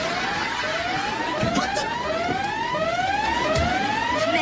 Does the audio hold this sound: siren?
yes